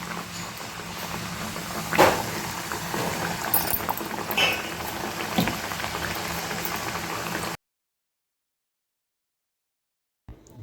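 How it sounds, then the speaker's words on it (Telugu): Pressed jaggery boorelu dumplings drop into hot oil and fry with a steady, bubbling sizzle for several seconds, close and fairly loud, before cutting off into silence. "ఈ విధంగా చేతిలో ఒత్తుకున్న బూరెల్ని తీసుకొని ఆయిల్లో వేసుకుండండి."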